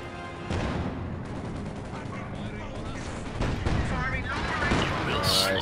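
Katyusha rocket artillery fires in Company of Heroes 2 as a dense, continuous roar of launches and explosions that holds steady and grows slightly louder toward the end, with a voice talking over the barrage.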